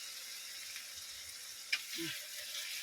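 Spices sizzle quietly in a hot pan, a soft even crackle with one brief clink from a utensil partway through.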